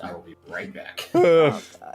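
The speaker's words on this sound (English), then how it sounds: "I hope that was a dog" A dog gives a single sharp bark-like yelp in the middle, loud and close, between bits of startled human speech before and after.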